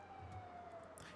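Emergency vehicle siren in a GTA roleplay game, a faint steady wail sitting low in the mix with a slight falling pitch, heard alone without talk.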